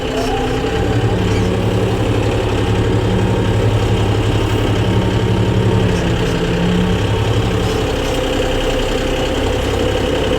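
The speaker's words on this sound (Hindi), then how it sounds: "अब देखो ट्रैक्टर कैसा चल रहा है, बिल्कुल चल रहा है ना मक्खन की तरह" A tractor in second gear drones steadily while pulling a cultivator through the soil, a loud, constant low engine rumble with a fine rhythmic knock, close and uninterrupted for the whole stretch.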